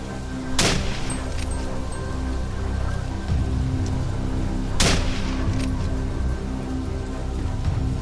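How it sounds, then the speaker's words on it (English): Two loud, sharp gunshots ring out during a wild boar hunt in mountain foliage, spaced several seconds apart over a constant outdoor rushing background. "3 loud gunshots rang out, ending the prey's escape once and for all."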